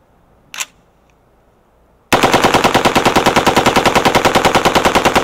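Osprey Defense 20-inch OPS-416 rifle firing a loud, rapid, steady burst of fully automatic gunfire that lasts several seconds, preceded by a brief faint click.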